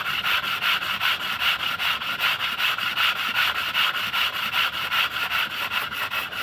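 Hand sanding on the copper part of a DT 500 PTO: steady, close back-and-forth abrasive strokes repeating at an even quick rhythm, with no voices.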